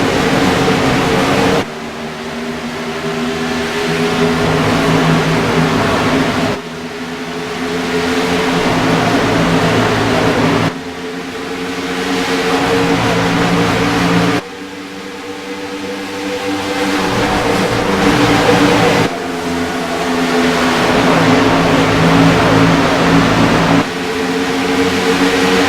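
Race cars accelerate together on a green flag restart at Kansas Speedway, a loud sustained engine roar with layered revving tones that rise and shift in waves as the pack passes, with no talk over it.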